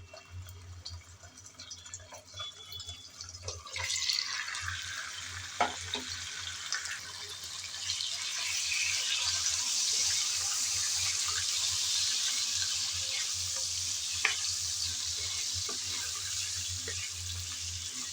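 Chicken goes into hot oil in a pan and sizzles, the hiss swelling after a few seconds into a steady, fairly close frying sound with occasional stirring clicks.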